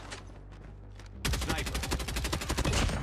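Maddox rifle gunfire in COD Mobile: a brief lull of scattered sounds, then a loud, rapid sustained burst of automatic shots running to the end.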